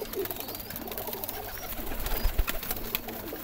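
Pigeons coo in a large loft housing around 170 birds, low murmuring calls overlapping steadily at moderate distance, with light rustling and a few soft thumps.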